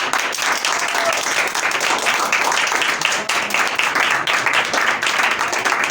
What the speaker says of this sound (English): if you are happy, then once again you should clap